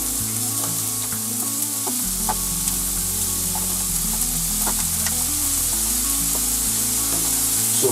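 Minced beef sizzles and crackles steadily as it fries in a hot pan, a continuous close frying hiss with occasional stirring scrapes and no talking.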